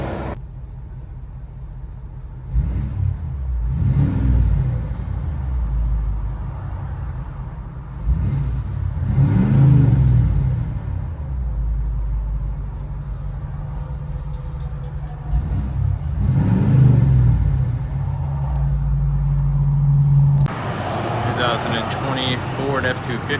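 Inside the cab of a 2020 Ford F-250 6.7L diesel with DPF delete and 4-inch straight-pipe exhaust, the engine is revved about four times, each a deep muffled rumble swelling and fading over a low idle.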